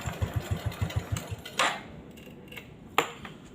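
An old motorcycle engine idles briefly with a quick, regular chugging pulse before cutting out, followed by a couple of sharp clanks nearby.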